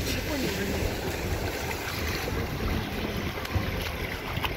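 A car driving through deep standing water after rain, a continuous rushing splash and churning roar close to the microphone, with wind noise over it.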